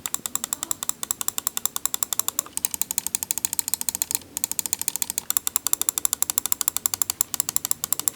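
Rapid, even ratcheting clicks come from the scroll wheel of a Xenics Titan GV Air wireless gaming mouse being spun up close, in several runs with short breaks between them.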